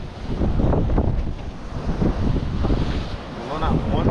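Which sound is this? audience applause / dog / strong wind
strong wind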